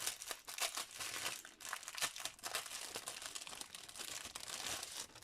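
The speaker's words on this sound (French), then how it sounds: "Si j'arrive à ouvrir le sachet." A plastic sachet of diamond painting beads is opened with sustained crinkling and crackling, close and fairly loud, in dense bursts lasting several seconds with no talking.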